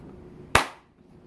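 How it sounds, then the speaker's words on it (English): A single sharp hand clap rings out once, loud and close, then decays quickly into a quiet room, with no talk around it. "When you hear ch, clap."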